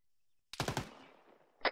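Gunfire in the ArmA video game: a rapid burst of several sharp shots fired close by, followed by a decaying echo and one more crack near the end.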